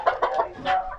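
Farmyard chickens, a fighting rooster and his hen, give a brief burst of clucks. Several short nearby calls come in quick succession and then end.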